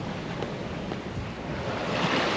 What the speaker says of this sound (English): Weather predictions were wrong. I'm not having 11 knots of wind. I'm having all the way up to 20.